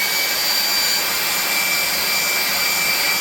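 An air-blowing machine used to dry super glue runs close and loud, a steady, unbroken rushing whine with a high tonal edge.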